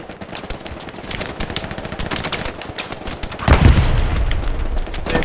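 Rapid gunfire from a Hell Let Loose battle crackles continuously at close range, broken by a heavy boom and a low rumbling blast partway through, with shots carrying on after it.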